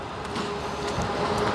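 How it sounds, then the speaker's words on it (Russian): An electric commuter train rolls steadily past at moderate distance, a continuous low rumble and hiss with a faint sustained tone, no voices. "Едет электричка."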